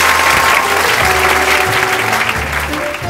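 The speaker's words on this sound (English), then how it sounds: "the students burst into a roaring applause" Students applaud Italian chef Paolo de Maria in a full room, a dense, loud roar of clapping that runs unbroken from start to finish.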